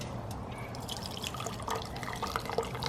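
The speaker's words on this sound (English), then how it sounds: "Okay, just pour some in each cup." Kombucha trickles and splashes as it is poured into cups, a soft close liquid pour lasting a few seconds with faint dripping.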